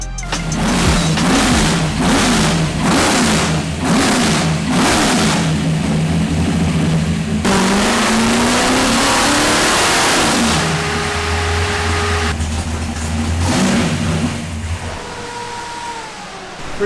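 A BMW with a 632 big-block engine revs repeatedly in pulses, then settles into a rough, rising roar and a loud idle, close and sustained throughout.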